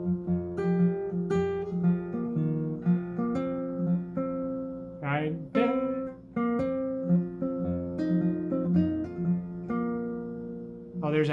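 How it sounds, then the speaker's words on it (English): Acoustic guitar plays a fingerpicked passage of a blues song, with a hammer-on between measures: a steady picked melody over bass notes, close and clear, with no voice. "You're doing a hammer-on from the second measure into the third measure"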